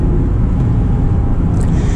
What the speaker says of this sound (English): all the rev matching you hear here is me